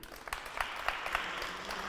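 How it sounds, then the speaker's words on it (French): Applause from an audience at a high-school trophy event as a guest is welcomed on stage, a steady dense patter with a few sharper claps, fairly close and filling the whole moment without voices. "Tout de suite et maintenant, Ali Ahmad, sous vos applaudissements"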